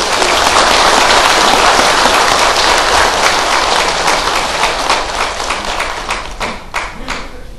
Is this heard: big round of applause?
yes